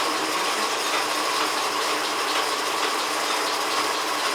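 An ALG 200 milling machine with its spindle running at low speed gives a steady, even mechanical whir with a fine gear-ratchet texture, constant in level throughout, close by and without talk.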